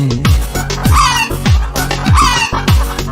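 A hen clucks repeatedly in short rhythmic bursts, close and loud, with a crowing-like call mixed in.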